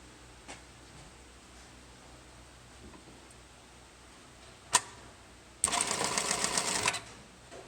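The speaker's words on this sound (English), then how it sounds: "and we're ready to sew." Juki LK1900B industrial bar-tack sewing machine runs a short, rapid stitching burst of about a second, loud and mechanical, after a single sharp click in an otherwise quiet room.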